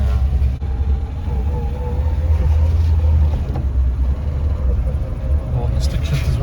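Manual Peugeot 404 driving through flood water on a road after a wet winter, a loud low engine and wheel rumble with watery rushing wash, while people inside the car talk.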